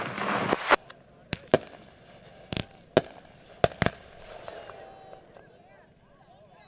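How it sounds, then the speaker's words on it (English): Leftover fireworks go off at a dirt race track during a driver appreciation night, with a loud opening burst followed by several sharp, separate cracks at irregular intervals and faint crackle between them. "This is what's left of the fireworks."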